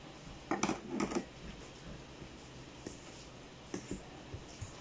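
A cup of sugar is mixed into flour in a bowl for pandesal dough, with a few soft scraping strokes up front, then sparse quiet taps of a utensil against the bowl, close and faint, with no voices.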